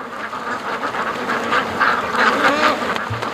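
A group of domestic ducks on a lake quacks loudly and almost continuously at close range, their calls overlapping in a busy chatter.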